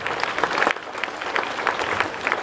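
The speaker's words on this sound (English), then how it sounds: "Mrs. Santiago, Ms. O'Connor, and Mrs. Selvi, I think they deserve a round of applause also for bringing this together." Audience clapping at a school assembly, a loud, dense burst of applause from a hall full of children and staff, brisk and continuous with a brief dip partway through.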